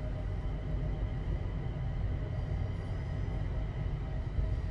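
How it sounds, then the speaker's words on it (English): Class 350/1 Desiro electric multiple unit in Train Sim World 5 on the West Coast Main Line South, a steady low rumbling cab drone with faint electric whine, continuous and unvaried, no voices. "350/1 electric multiple unit, manufactured between 2004 and 2014, and is part of the Desiro family"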